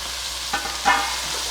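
Tomatoes sautéing in a hot pan for bisi bele bath, a steady soft sizzle with two brief stirring scrapes, close and alone.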